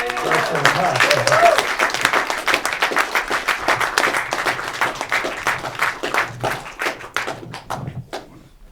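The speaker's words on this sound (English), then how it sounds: "first we should have a round of applause for the cast." An audience at a film Q&A in a picture house applauds the cast: a brief voice at the start, then sharp, fairly close clapping that builds and gradually tapers off over about eight seconds.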